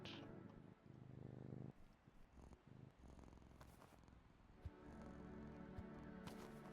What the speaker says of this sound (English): But the cats are purring.